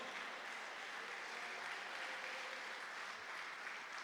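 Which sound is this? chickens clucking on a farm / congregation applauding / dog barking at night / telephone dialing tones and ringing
congregation applauding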